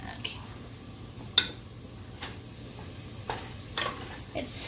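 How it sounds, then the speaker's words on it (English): Food stirred in a pan while it finishes cooking, with a few scattered scraping clicks and light knocks over a soft steady hiss, fairly quiet. "right now I'm just mixing it around to help make sure that it gets cooked evenly"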